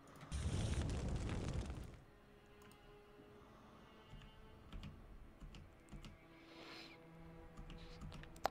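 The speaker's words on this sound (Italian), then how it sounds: "Ti sparo in faccia con questo." A gunshot fired in the video game The XCOM-Files, a loud burst at the start that lasts under two seconds and then drops to low game ambience with faint clicks.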